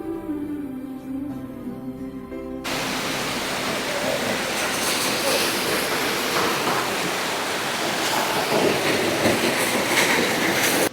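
Waterfall pouring at Rock Garden, Darjeeling, a loud steady broadband roar of rushing water that begins abruptly after a few seconds of music and continues unbroken.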